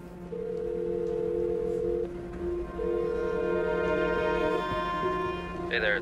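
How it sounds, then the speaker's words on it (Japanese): An outgoing phone call rings on the line as two long electronic ringback tones, each lasting nearly two seconds and separated by a short pause. The tones are clear and moderately loud over a low background hum. "代わりに夫に電話するワンダ。"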